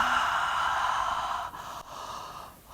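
During a dynamic yoga flow, a person lets out a long, breathy exhale that fades over a few seconds before a softer breath follows. It is close and quiet, with no talking.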